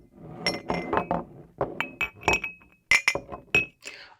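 Glasses striking one another in a series of bright, ringing clinks, some closely spaced and some separated, close and clear with no voices.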